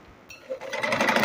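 A sewing machine starts up and runs a quick burst of stitching on fabric, its rapid needle rhythm building from quiet to steady within about a second, close and alone.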